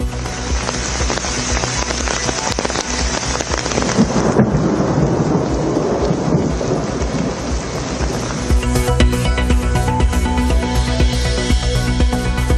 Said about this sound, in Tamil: இமாச்சல பிரதேச மாநிலம் ஷிம்லாவில் மழை பொழிவு.